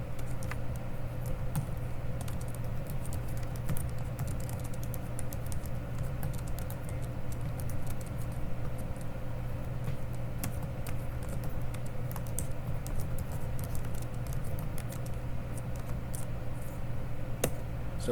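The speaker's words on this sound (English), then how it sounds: "Then we're going to do some more typing." Rapid, steady typing on a computer keyboard while a resume is entered in Microsoft Word: dense, continuous keystroke clicks at an even pace for the whole stretch, close and clear over a constant low electrical hum, with no voices.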